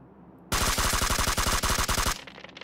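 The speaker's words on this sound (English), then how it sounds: "Gun recoil shot. Test." Rapid automatic gunfire in PUBG during a recoil test: one loud, sustained burst of evenly spaced shots lasting about a second and a half, then an abrupt stop and a fading tail.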